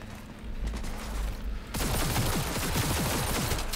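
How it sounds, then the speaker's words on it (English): A powerful gun firing in Cyberpunk 2077 sets off a loud, rapid volley of shots about halfway through, preceded by a low rumbling game backdrop. "Wow, this gun is powerful."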